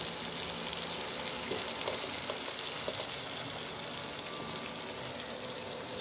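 Cabbage fries in a pan with a continuous moderate sizzle and scattered small pops and crackles, close by and steady throughout.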